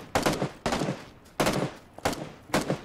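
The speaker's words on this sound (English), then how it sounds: "I'm taking shots on this guy." Video game gunfire in a battle royale match, four sharp bursts of rapid shots spaced about a second apart, loud and close with no talking.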